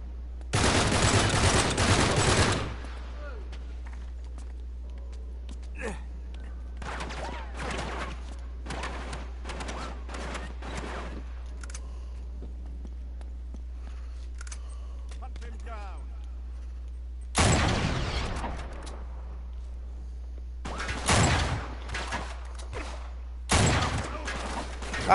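Bursts of gunfire from Uncharted 3: Drake's Deception, a loud volley at the start and more short bursts later, with quieter stretches of game ambience and a player talking over it.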